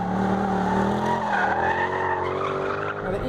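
Mercedes-Benz C63 AMG Coupe lapping a race circuit, loud tyre squeal and skidding over the engine's roar, sustained through a hard corner.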